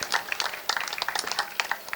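A gathering claps for a visiting minister at a Raksha Bandhan event, a brief scatter of moderate handclaps from a modest crowd, fairly even and not very loud.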